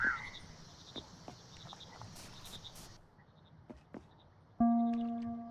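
Frogs croak in the video game Mudborne as scattered short, chirpy calls over a quiet hum, followed near the end by a steady electronic game tone.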